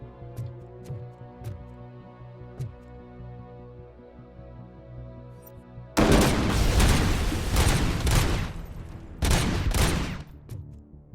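Sniper rifle fire in the video game RoboCop: Rogue City, several sharp cracks alone at first, then a sustained loud barrage of overlapping shots and blasts in the second half.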